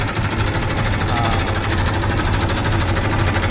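A JCB excavator works on a farm plot in a Gujarat village, giving a loud, steady mechanical chugging and rattling drone that continues without a break, close by and with no talk.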